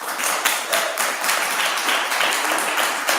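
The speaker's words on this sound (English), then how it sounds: "Please limit your applause." Applause from the audience at a city council meeting, a dense, steady patter of many hands clapping together for a few seconds.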